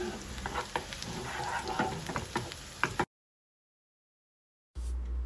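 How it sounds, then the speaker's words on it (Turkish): Onion sizzles steadily in a little oil with faint crackles and stirring scrapes for a few seconds, then cuts to silence before a low rumble returns. "Az bir sıvı yağ ile soteliyorum kokusu çıkana kadar"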